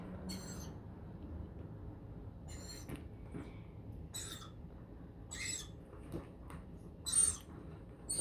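Cockatoo on a house gutter, giving a series of faint, scratchy bursts spaced irregularly a second or more apart against a quiet outdoor background.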